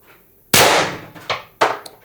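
A sharp Pistelle X-68 airgun shot at 1100 psi, firing an 8.5 gram pellet, bursts out loud and close, then trails off into a couple of fainter mechanical clacks.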